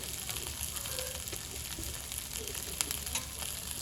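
Chicken pieces frying in hot oil until crisp, giving a steady, close sizzle with faint crackles and pops throughout and no voices.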